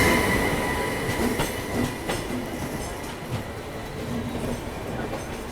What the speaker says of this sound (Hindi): गोरखपुर आनंद विहार हम सफ़र एक्सप्रेस